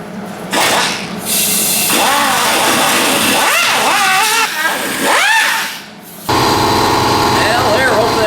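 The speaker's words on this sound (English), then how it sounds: "Air compressor." An air compressor runs in a garage during repair work on a classic VW Bug, a loud steady mechanical drone that stops briefly and restarts, with squealing, wavering sounds over it.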